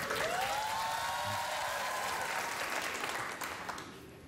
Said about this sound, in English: When they see themselves, they applaud.